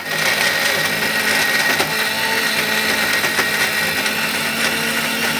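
A mixer grinder blending chutney whirs steadily at high speed, a loud continuous motor drone with a rattling, churning edge throughout.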